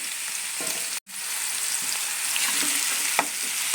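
Bottle gourd pieces fry in a pan with a loud, continuous close sizzle and occasional stirring scrapes, broken by a brief near-silent gap early on; nobody speaks.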